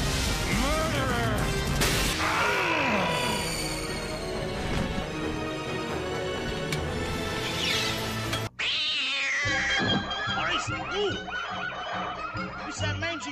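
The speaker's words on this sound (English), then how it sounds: "It's that mangy tabby cat." Animated cartoon scene with a mangy tabby cat yowling and caterwauling amid squawking fowl and busy music, voices and effects overlapping in a loud, chaotic mix.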